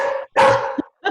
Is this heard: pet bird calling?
no